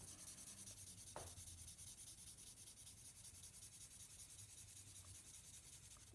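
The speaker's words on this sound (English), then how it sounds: "If you have a Sharpie, you're going to color this in Sharpie." A Sharpie marker colours in a cat drawing, a faint continuous rubbing scratch across paper, steady and quiet with one brief tap early on.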